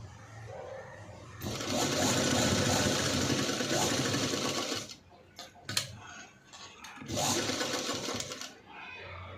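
Sewing machine stitching piping onto a padded blouse, running in two close, loud bursts of rapid mechanical whirring separated by a brief pause with light handling clicks.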